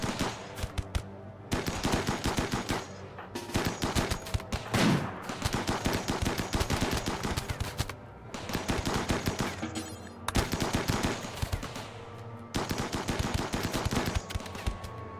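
Defensive turrets in the RimWorld video game fire in long rapid bursts at a horde, loud and dense automatic gunfire separated by brief pauses, with no talking over it.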